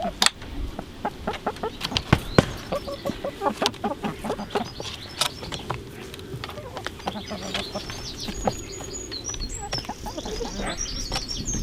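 Hens clucking on a North Wales smallholding pasture of flowering red and white clover, a flock of about ten birds giving repeated close clucks and calls, with small birds chirping in the background.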